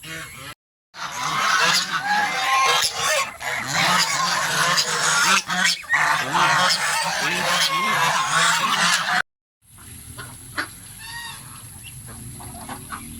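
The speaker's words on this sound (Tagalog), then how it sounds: "Nakita nyo naman ang aming mga peking duck." Peking ducks on a farm honk and quack loudly and continuously in a dense, overlapping flock chorus, broken by a short pause before quieter calls resume.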